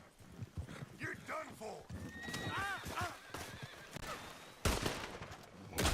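A horse whinnies and hooves clip-clop amid video game sound effects, while a person talks excitedly over it.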